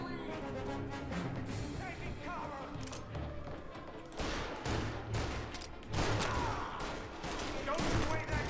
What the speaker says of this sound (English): This guy's got a shotgun.